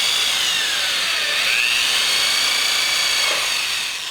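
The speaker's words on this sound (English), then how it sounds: "I just drilled through the bodywork right through that hole that's in the windscreen" Loud, continuous high-pitched whine of a drill boring through motorcycle race bodywork at a windscreen hole, steady for the whole stretch with slight pitch shifts, close up and without voices.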